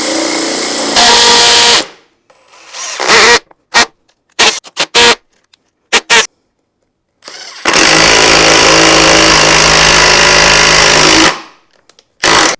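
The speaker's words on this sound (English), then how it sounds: "Definitely better suited for drilling large holes in hardwood." A power drill bores large holes in hardwood with spade and auger bits, loud grinding bursts broken by pauses and short stop-start triggers, then one long sustained stretch of heavy drilling before cutting out.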